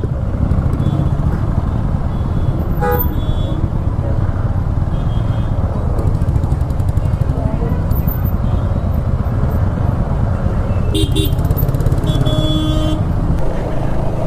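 Dense road traffic jam near a railway station in Darjeeling, with motorcycle and car engines idling and moving, and short car horn toots popping out over the steady rumble.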